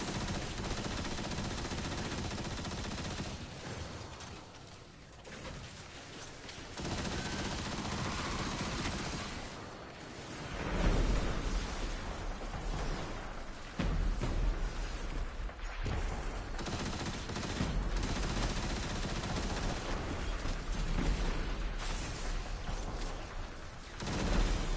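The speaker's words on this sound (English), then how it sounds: "Let's give him some cover fire." Cover fire in the video game Destiny 2 rattles on for a long stretch, with rapid automatic bursts and scattered heavier booms, loud and close, dipping briefly before resuming at full intensity.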